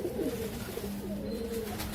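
Amritsari pigeons coo softly in repeated low, throaty phrases, with a faint background hum and a light rustle near the end.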